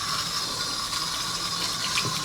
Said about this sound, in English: Just want to rinse off all of the loose mud, get everything you can off of it